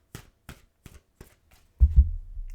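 Thick, hard-to-shuffle tarot cards are riffled in five quick, evenly spaced bursts, followed by a heavier thudding shuffle as the deck is pushed together.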